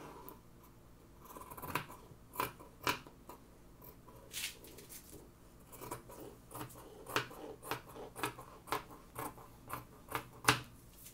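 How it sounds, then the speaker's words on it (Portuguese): Scissors snip through dress fabric for a matching mother-and-daughter dress cut, a series of crisp, close cuts coming in irregular bursts over a quiet room with no talking. "Aí, cortando a parte da frente, a gente vai cortar o infantil."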